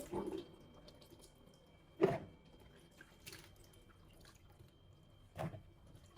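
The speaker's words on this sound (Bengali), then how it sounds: "লাউগুলো তো কেটে নিলাম আমি লাউগুলো ধুয়ে নিতেছি" Cut bottle gourd pieces are washed in water by hand, with three separate splashy sloshes spaced a few seconds apart and quiet dripping between them, close by.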